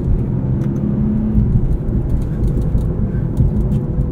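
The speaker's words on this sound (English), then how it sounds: "Not much to hear from that 3-liter twin turbo V6. It stays pretty quiet in this car." Muffled, steady low engine drone from a 3-liter twin turbo V6 inside a moving 2022 Infiniti Q50 Red Sport 400, with road rumble and no notable revving.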